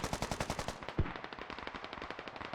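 Full-auto gunfire from the Squad video game, a rapid rhythmic burst of close, loud shots with one heavier thump about a second in, continuing steadily throughout.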